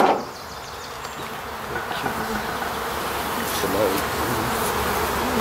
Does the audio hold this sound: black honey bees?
yes